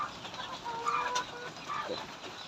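Chickens cluck softly at a distance over a faint background hiss, with a few brief calls.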